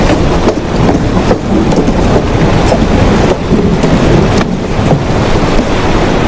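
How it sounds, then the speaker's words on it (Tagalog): Heavy rain pours down loudly and steadily, a dense, close roar with gusty wind buffeting the microphone and no voices. "Malakas ang ulan. Hindi ko gusto kapag umuulan."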